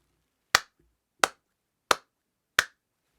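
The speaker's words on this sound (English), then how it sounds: "Let's do the clap over here now." Four sharp hand claps, evenly spaced about two-thirds of a second apart, close and crisp in a quiet room, made to test a RODE NT USB Mini microphone's latency.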